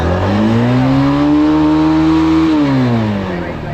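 A loud, close motorcycle engine revs hard near redline, holding a high whine before dropping back down.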